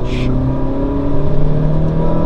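A Suzuki Vitara with a naturally aspirated engine revs up as the accelerator is pressed, a steady loud motor hum that rises and holds close by throughout.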